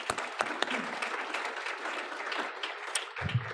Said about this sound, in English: let's have a nice round of applause for Deandra